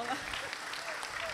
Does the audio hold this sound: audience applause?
yes